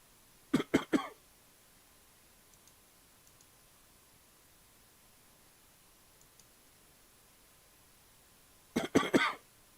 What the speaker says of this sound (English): got a little cough going right now